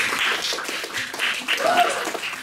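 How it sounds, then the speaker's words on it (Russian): An audience at a school parliament election debate applauds briefly in a moderate, fairly distant patter. "Поэтому давайте аплодисменты для Чьянины."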